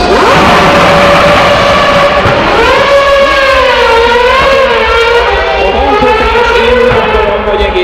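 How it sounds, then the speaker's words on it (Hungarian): A Mercedes Formula 1 engine wails loudly on a city street circuit. Its high, sustained scream rises and falls in pitch as the car passes close by, and it dominates everything else throughout. "akik eddig még nem hallották, hogy milyen hangja van ennek a Mercedes motornak"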